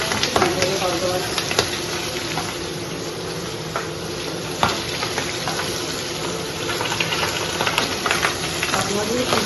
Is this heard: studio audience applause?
no